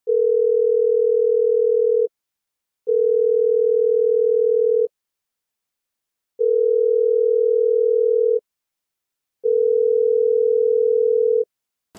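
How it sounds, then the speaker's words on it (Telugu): A telephone call placed on speakerphone after dialing, sounding a steady tone in four evenly spaced long beeps of about two seconds each with silent gaps, clear and alone. "ఒక్కసారి డయల్ చేసి చూడండి"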